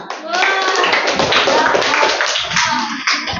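Students in a classroom clap their hands together in a brief, loud burst of dense clapping, with some voices mixed in.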